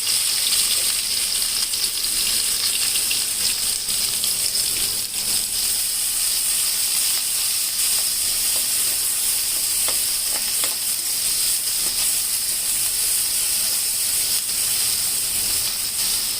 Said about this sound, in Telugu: ఆవాలు ఎప్పుడైనా చిటపట్లాడితేనే దాని ఫ్లేవర్ అనేది బయటకు వస్తుంది, ఆవ నూనె